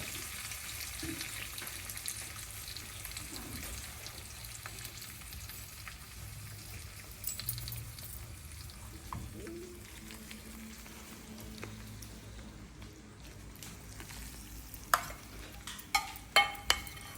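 Tomato chutney (roti pachadi) is stirred and fried in a pan, giving a soft, steady sizzle with quiet scraping throughout and a few sharp utensil clinks close together near the end.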